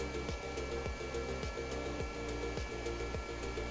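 A turboshaft engine on a VTOL aircraft in a flight-building video game whines steadily and loudly, with a rhythmic pulsing beat that repeats about every half second.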